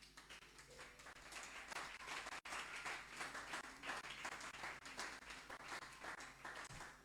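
A church congregation applauding the Lord, dense sustained clapping that fills the room for several seconds, heard at a distance and fairly faint.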